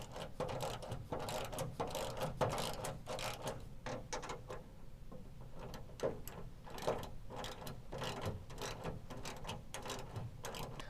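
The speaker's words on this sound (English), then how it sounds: "And now we can go ahead and with a 7/16 tighten down these bolts." A ratchet wrench with a 7/16 socket tightens the mounting bolts of a DiamondBack SE tonneau cover on a 2019 Chevy Silverado 1500, giving steady, close-up rapid clicking throughout.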